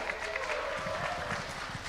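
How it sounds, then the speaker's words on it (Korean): Guests at a Korean Freedom Federation gathering clap to welcome the chairman of its Seoul council to the stage, a soft, brief patter of applause heard at a distance. "큰 박수로 환영해 주십시오."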